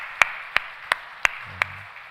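Five sharp, evenly spaced claps ring out alone in a quiet church, with a faint low hum near the end.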